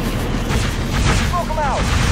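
A grenade blast rolls through a Halo Wars battle, a loud low rumbling boom spreading over the whole moment, with brief voiced chatter near the end.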